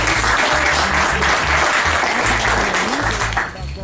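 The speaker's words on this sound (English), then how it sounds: "Can we have another round of applause?" Steady audience applause from a crowd welcoming a speaker at a women's solidarity event, dense continuous clapping throughout that thins slightly at the very end.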